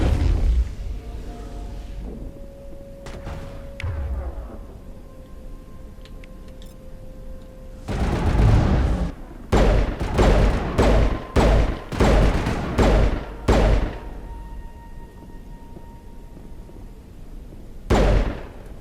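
Sniper and gunfire exchange in the video game Mass Effect: Legendary Edition, heard as a rapid series of loud, booming shots in bursts, with a long tone and quieter stretches between them and no one talking.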